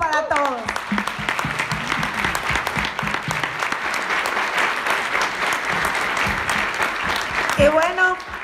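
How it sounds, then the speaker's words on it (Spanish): Sustained audience applause fills a room at a business presentation, dense and steady clapping for several seconds, with a voice speaking over the start and again near the end. "¡Fuerte el aplauso para todos!"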